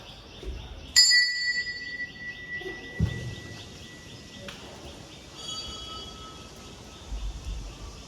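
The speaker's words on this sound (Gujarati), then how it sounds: "કેટલા બધા ઘંટ છે મંદિરની અંદર, તમે જોઈ રહ્યા છો" Metal temple bells ring inside a Hanuman temple, bright struck tones that ring out and decay, a clear strike near the start and fainter ones later over a hushed ambient background.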